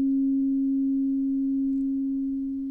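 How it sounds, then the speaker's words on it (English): A low, pure sine tone tuned as the Earth Om tone holds perfectly steady and clear, fading very slightly toward the end with no other sounds. "the tones we have are the low ohm tone, which grounds us to the Earth"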